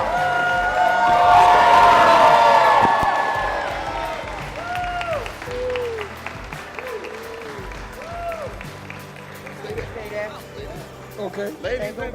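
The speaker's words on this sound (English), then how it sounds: "Let's cheer them on." Wedding guests cheer and applaud as a newly married couple is reintroduced, a swell of clapping and whoops that peaks early then fades, while a voice keeps talking over the crowd.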